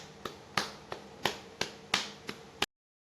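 Millet dough being hand-patted into a bajra rotla, a series of seven sharp, close slaps at a steady, unhurried rhythm in a quiet kitchen, then silence.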